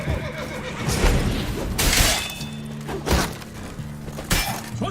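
Horse neighs and whinnies in The Witcher 3, with several loud bursts over a busy battle soundscape of clashing, thuds and steady musical drones.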